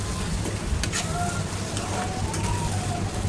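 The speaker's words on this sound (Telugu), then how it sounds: "ఇది చూడండి ఉల్లిపాయ ముక్కలు కూడా ఫ్రై అవుతున్నాయి కదా" Onion pieces frying in a pan for an ivy gourd stir-fry, a continuous crackling sizzle with a few brief utensil taps, close and steady, and a voice speaks faintly alongside.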